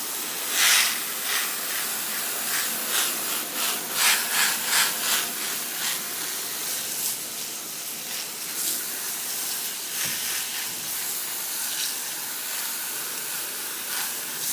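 A spray of water blasts dirt off the board of an RC 4x4 monster truck, a continuous rushing hiss that pulses as the jet sweeps back and forth, close and alone for about fifteen seconds.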